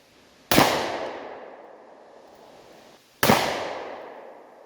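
Two loud, sharp 10mm pistol shots, about three seconds apart, each firing a 180 grain jacketed hollow point into a cinder block outdoors, with a long ringing decay trailing each report.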